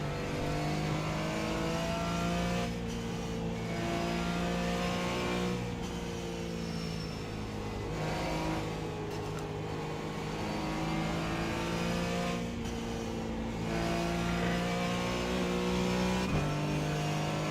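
Race car engines roar in the iRacing simulator, a BMW among them, steadily revving with repeated gear shifts and throttle lifts that cut the pitch before it climbs again, loud and continuous with no talk.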